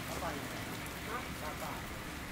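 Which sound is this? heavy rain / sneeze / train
heavy rain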